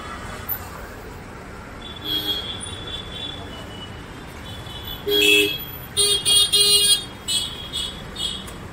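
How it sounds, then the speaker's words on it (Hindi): Busy road traffic rumbles along continuously, with several short car horn toots and honks breaking through, a cluster of them in quick succession near the end, all fairly close by. "ट्रैफिक बहुत,"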